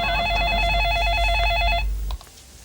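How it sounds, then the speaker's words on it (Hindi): A telephone rings with a rapid warbling electronic trill, one long burst that stops abruptly, followed by quiet room tone. "ओफ ऐश्वर्या, क्यों मुझे बार बार फोन कर रही हो?"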